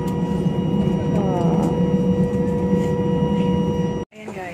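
Airliner cabin after landing at Manila Terminal 4, filled with a steady low engine and ventilation hum and faint tonal whine, ending in an abrupt cut to near silence before the ambience resumes more quietly.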